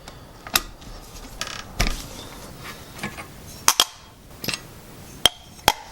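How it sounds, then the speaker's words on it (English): Socket wrench with 12mm and 14mm sockets loosening the brake caliper bolts on a classic Honda motorcycle, a series of sharp separate clicks and cracks spread irregularly over a few seconds, close and fairly loud against a quiet background. "pull the brake caliper off by loosening and removing these two bolts"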